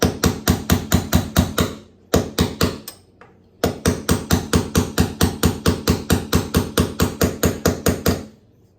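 A hammer driving a nail into floor trim, around thirty sharp, evenly spaced blows, close and loud, with a brief pause partway through before the rapid strikes resume.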